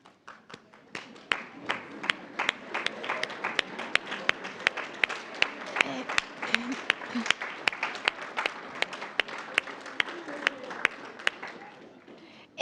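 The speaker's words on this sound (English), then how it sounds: "your graduates in the back of the room were clapping the loudest for all of you" Applause for graduates' families at a graduation ceremony, a room of clapping hands, moderately distant, building quickly and holding steady with individual sharp claps standing out before it fades.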